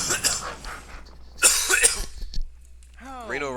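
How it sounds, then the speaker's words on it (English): A man with allergies coughs and clears his throat in a couple of rough, close bursts during a game commentary session, then speaks briefly afterward. "Sorry about the coughing, by the way. Allergies are just still a little bit rough."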